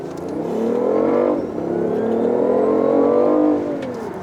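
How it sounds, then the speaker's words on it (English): A BMW i8 hybrid with a turbocharged inline three-cylinder beside electric motors accelerates hard, its engine note rising in two loud sweeping pulls with a brief dip between them, heard from inside the car with no talking. "You got the turbo inline 3 running right next to the motors"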